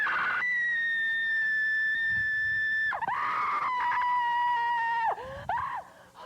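A person screams in long, sustained, piercing wails, loud and close, breaking into a few shorter rising cries before trailing off.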